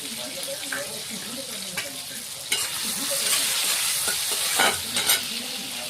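Tomatoes and salt frying in a pan while being stirred for a Bengali-style rohu fish curry, a steady sizzle with intermittent scraping stirs, close and moderately loud.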